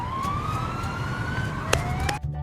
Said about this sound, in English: This is an ambulance. It helps sick people get to the hospital quickly.